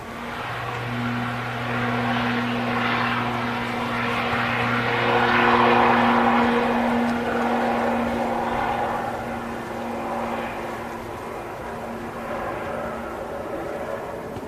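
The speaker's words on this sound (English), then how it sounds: "Aer Lingus ATR 72 now ready to depart," An Aer Lingus ATR 72 turboprop creeping along the runway at Manchester Airport, a steady propeller drone with a low engine hum that swells and then eases, heard at moderate distance without any talk.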